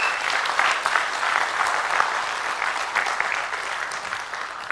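An audience claps in sustained, even applause that stays fairly steady throughout, with no voices standing out above it.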